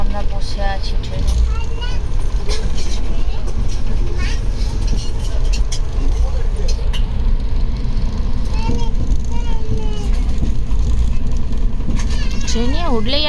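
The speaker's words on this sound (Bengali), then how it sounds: "এখন আমরা বসে আছি ট্রেনে।" Inside a moving train from Goa to Bangalore, a steady loud rumble of the carriage runs throughout, with people talking over it.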